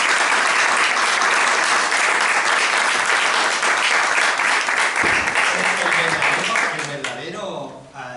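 An audience at a conference on naval medicine breaks into loud, sustained applause that thins out toward the end, where a voice begins speaking.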